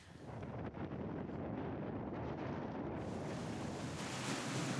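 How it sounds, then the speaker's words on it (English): Strong desert wind blows across the open outback of Sturt National Park during a storm, a loud, continuous rushing roar with gusty buffeting against the microphone and no voices. "You can see the intensity of the storm."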